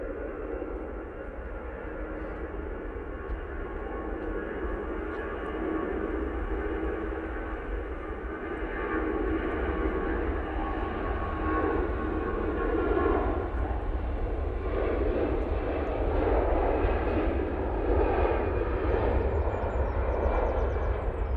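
EasyJet airliner departing Manchester Airport, a sustained distant jet engine roar with broadband rumble that swells slightly over about twenty seconds, heard from afar without talk.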